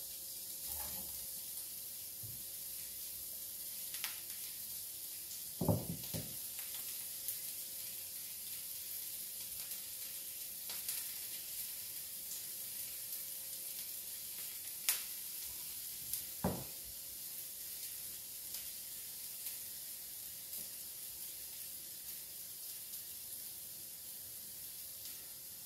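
Four hand-formed potato rösti galettes fry in hot oil in a pan, giving a faint, steady sizzling hiss with a few soft clicks and bumps; no one speaks.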